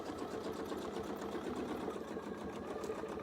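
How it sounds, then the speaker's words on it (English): A sewing machine stitches steadily across a quilt along a template line, its close, continuous rapid mechanical whirring and needle clatter running evenly throughout without pause. "line it up, and you'll just keep sewing all the way across"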